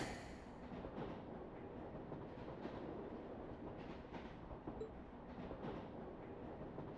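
Steady low rumble and rolling clatter of a train in the Trails of Cold Steel video game as it slows into a station, continuous and fairly close throughout with faint rail clicks.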